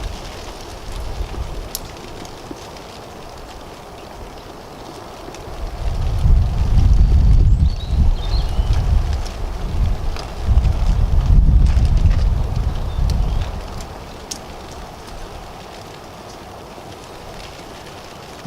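Strong wind buffets the microphone in heavy low rumbling gusts, rising in the middle and easing toward the end, with no talking.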